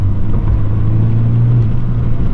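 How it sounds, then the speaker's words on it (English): Deep exhaust rumble from a car engine during a mountain drive, steady and close, with a slight rise in pitch partway through as it revs. "Hit him with the little exhaust action right here."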